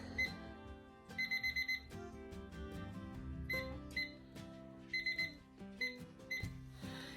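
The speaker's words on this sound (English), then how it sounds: "when that timer goes off" A kitchen timer sounds repeated bursts of high electronic beeping, several short clusters spaced through the clip over a steady musical background, moderately loud.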